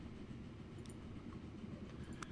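Big Boy steam locomotive rolling along the tracks in the video game Transport Fever 2, a faint, steady rumble of train wheels with a few soft clicks, quiet and distant, no voices.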